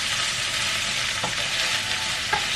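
Cubed meat and onions sauté in a hot pan with a steady, close sizzle, broken by a couple of brief scraping stirs.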